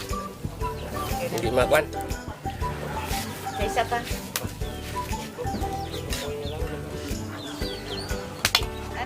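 Chickens cluck and squawk amid scattered rustling and wing flaps, with people talking nearby over the noise.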